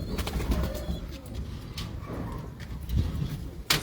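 Pigeons of a well-known breed coo close by in a loft in Madina Syeddan, Gujrat, with soft, low repeated calls and a few light fluttering or shuffling sounds.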